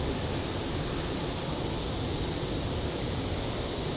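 An airliner takes off in Microsoft Flight Simulator 2020, a steady, loud broadband engine roar that holds even and unbroken throughout with no voices.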